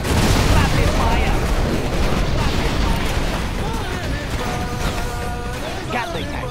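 Gatling tanks fire in the strategy game C&C Generals Zero Hour, a dense, loud stream of rapid gunfire and explosions that thins out, with game unit voice lines heard over it.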